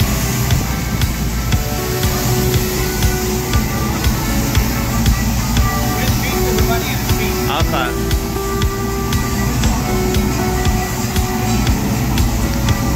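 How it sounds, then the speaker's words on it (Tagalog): Loud, continuous spraying of pressurized water while a car is washed at a car wash, a broad steady hiss with machinery hum, and a person speaking briefly over it. "Okay, let me do the spray now."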